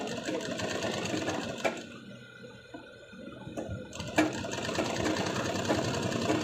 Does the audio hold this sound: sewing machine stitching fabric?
yes